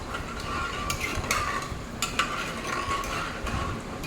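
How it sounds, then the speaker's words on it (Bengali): A spoon stirs masoor dal cooked with banana stem after water has been added to the pot, making soft scraping and a few light metallic clinks against the pot, close and fairly quiet. "একটু ভালোভাবে নাড়িয়ে দেবো"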